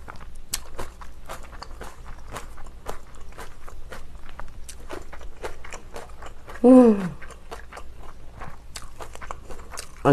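Biting into and chewing a big piece of spicy Korean side food, with steady wet crunches and chomps close to the mic throughout, and a short vocal sound near the middle.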